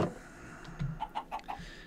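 A chicken in the video game Minecraft gives a few short, soft clucks in quick succession, fairly faint and alone, after a brief low thump at the start.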